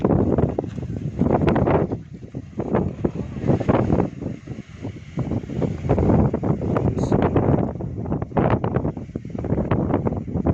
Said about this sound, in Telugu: విపరీతమైన గాలి పెడుతుంది.